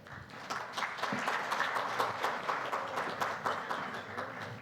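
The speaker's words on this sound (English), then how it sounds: "can we have a huge round of applause, everyone?" A corporate presentation audience applauds at moderate volume, a steady patter of clapping from a modest crowd, somewhat distant, with distinct individual claps audible through the wash.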